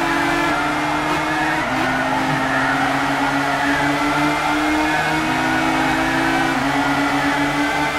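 Racing cars in the Gran Turismo 6 video game hold a steady, loud engine drone with shifting tones as gears change, tires squealing and skidding throughout a close online race.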